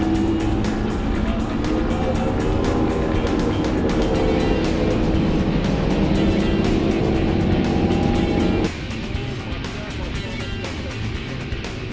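A motorboat engine drones loudly and steadily as the boat heads out to fish at the World Fishing Games in South Africa, then drops to a quieter, lower hum near the end.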